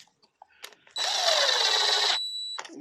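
A power tool drives a fastener into a Piaggio NRG scooter, one steady whirring burst of about a second with a high whine, close and loud, between faint clicks and handling noises.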